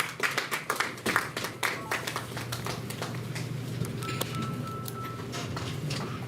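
A round of audience clapping rings out at the Ghana Journalists Association Awards ceremony, brisk and crowded at first, then thinning into scattered claps over a steady room hum.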